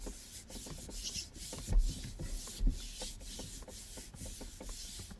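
Rubbing strokes over a leather steering wheel from a BMW during refurbishment, a soft, steady scuffing with a couple of firmer swipes, close and moderately quiet, with no talking.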